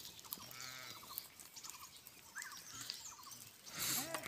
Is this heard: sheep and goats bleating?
yes